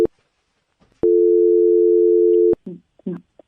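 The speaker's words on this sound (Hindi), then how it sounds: "घंटी बजड़ी, शांत हो जाओ बे।" A telephone ringback tone on an outgoing prank call: one long, steady, loud tone lasting about a second and a half, with brief voices starting right after it ends.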